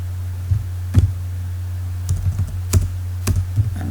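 Keys clacking on a computer keyboard in short irregular bursts of taps, close and clear over a constant low electrical hum, with no voices.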